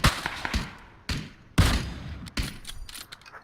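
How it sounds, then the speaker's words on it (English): Gunfire from several groups in a PUBG match: a few loud, reverberant shots and thuds arrive at irregular intervals, each trailing off into a noisy decay with faint background clatter. "Or one group started shooting, then another group started shooting."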